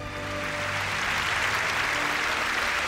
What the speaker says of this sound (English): Let's clap for Jesus, brethren.